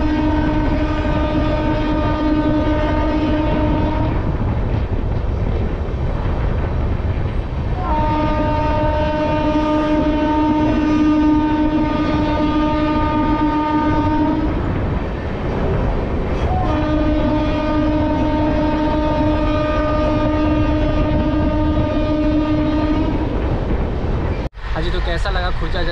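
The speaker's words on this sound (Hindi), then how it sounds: "110 की रफ्तार में दंदनाती हुई अपनी ट्रेन खुर्जा जंक्शन को क्रॉस की है" A Humsafar express train runs through Khurja Junction at 110 km/h, its horn blaring in three long blasts over a steady loud rumble and clatter of wheels, ending with a sharp bang.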